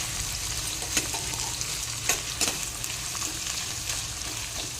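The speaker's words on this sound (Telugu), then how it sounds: "ఇవి కొంచెం సేపు వేగాలి" Onions frying in a pan for chicken curry give a steady broad sizzle with faint scrapes from stirring, close and fairly quiet, with no talking.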